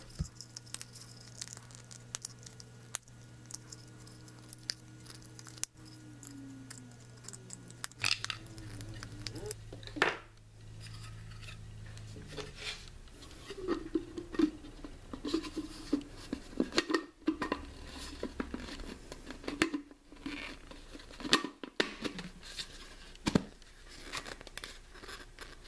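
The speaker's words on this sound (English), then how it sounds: "so I'm going to use my penknife to trim these out." Penknife blade trimming out horizontal plastic slots on an aquaponics grow tower part, heard as scattered cutting, scraping and crackling snaps with handling clatter, close and fairly quiet, no talking.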